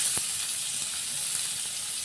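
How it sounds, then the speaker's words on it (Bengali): Onions sizzle in hot refined oil in a kadai, a loud, steady, crackling hiss with a few soft pops throughout, and no voices. "তেলটা গরম হয়ে গেছে, পেঁয়াজ দিয়ে দেবো,"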